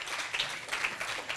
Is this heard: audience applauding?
yes